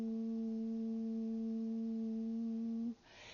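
A person hums a single steady note, holding it evenly for about three seconds before stopping, close and clear with no talk.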